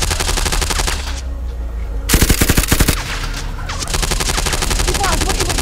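Rapid automatic gunfire rattles loudly in a video game, long bursts broken by a short pause and a heavier volley before the shooting resumes, with excited voices chattering over it.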